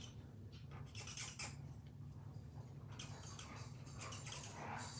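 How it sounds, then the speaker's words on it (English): Dogs wrestling and playing on a floor below, heard faintly as scattered yelps, squeaks and whimpers over a steady low hum, with no talking. "my dogs are downstairs wrestling, so you might be able to hear"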